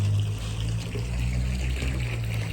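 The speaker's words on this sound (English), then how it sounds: "have a taste of natural spring water. out of a rusted pipe." Natural spring water trickles from a rusted pipe at Saratoga National Historic Park, a soft continuous splash over a low steady hum.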